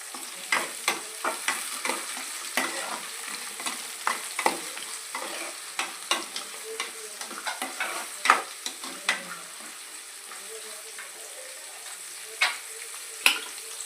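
Carrots sizzle and fry in a pan for egg biryani, with a spoon stirring and scraping in repeated sharp clicks over a constant soft crackle, close by and without talk.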